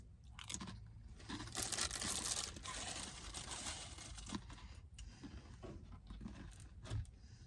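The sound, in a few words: eating saltine crackers, crinkling the pack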